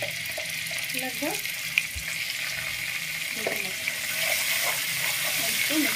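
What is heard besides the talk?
ginger garlic paste frying in oil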